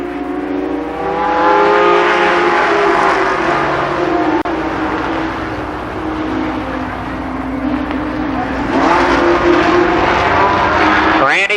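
Limited Sportsman race cars circle Columbus Motor Speedway during a qualifier, engines droning loud and steady with rising and falling pitch as the pack laps, an announcer talking over them throughout.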